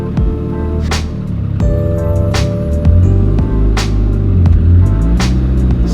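A Mitsubishi Evo fitted with a sequential transmission pulls away under load. The engine drone climbs and breaks at several quick gear changes, each marked by a sharp burst, loud and close throughout.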